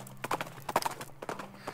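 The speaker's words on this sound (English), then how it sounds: "The horse reluctantly agrees and trots off, leaving the binoculars behind." Hooves clip-clop in a light trot as a horse moves off in the video game West of Loathing, a handful of crisp, fairly quiet hoofbeats spaced in an uneven rhythm.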